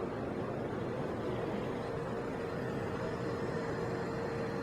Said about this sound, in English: we're standing right next to the blower